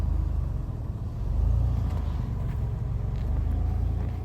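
A Jeep Liberty with underbody armor and thick tires crawls over an obstacle on a snowy winter trail, its engine rumbling low and steady up close, swelling briefly as it climbs, with no talking.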